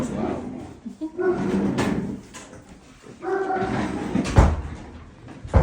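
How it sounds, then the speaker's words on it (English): A loud pet dog barks and whimpers in a home, several sharp bursts and whines around a door shutting, with people talking over parts of it. "Our dog's loud."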